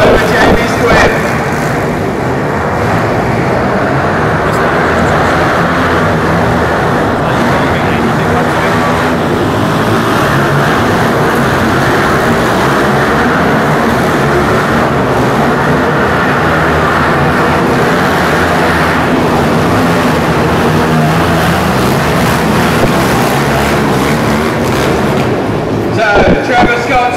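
Dirt bikes race on the last lap at a live dirt bike show, engines forming a loud, dense continuous roar from start to finish with a crowd-like wash underneath.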